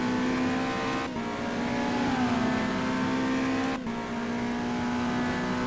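A WEC 2015 race car engine revs hard at Monza in the racing game GTR2, a steady high-pitched whine broken by two quick gear-shift dips as it climbs, loud and close with no voices.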